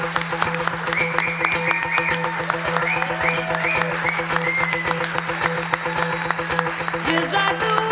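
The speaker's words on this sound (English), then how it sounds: "So if I may ask you, one more round of applause for Mr." Applause at an awards ceremony honoring a leader's tenth year: steady, dense clapping from a crowd lasting throughout, with a faint tonal background underneath.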